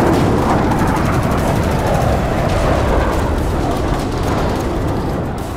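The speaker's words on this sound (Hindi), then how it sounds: "राफा में जगह जगह हवाई हमले हुए, भीषण बमबारी में कई इमारतें तहस नहस हो गई।" Air strikes and heavy bombing pound Rafah, a dense, loud, continuous rumble of blasts and crackling fire that fills the whole stretch without letup, with no voices.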